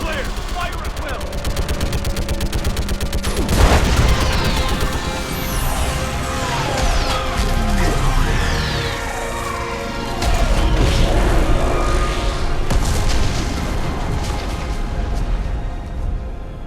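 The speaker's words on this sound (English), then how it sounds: "I need an orbital strike. We're clear! Fire at will!" Orbital strike blasts pound a live Reaper in the Mass Effect 3 video game: dense, crackling bursts of explosions and rapid fire, with a heavy impact near the middle, under intermittent voices.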